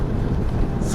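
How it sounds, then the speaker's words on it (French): Wind buffets a microphone in a steady low rumble with broadband roar throughout, no talking audible. "Oh mais ce vent, je te jure, je crois qu'on n'entend rien ce que je dis."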